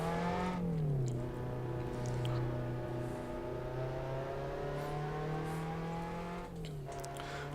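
Race car engine in the Assetto Corsa video game replay lap, a loud steady engine note that holds high, dips with gear changes near the start and again later, continuous and close with no voices.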